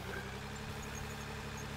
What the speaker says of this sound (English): You can smooth lovely little slopes in with the bulldozer.